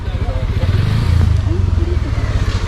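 Motorcycle engine idling steadily at close range before a ride toward the Kolli Hills hairpin roads, a low continuous rumble with faint voices talking over it.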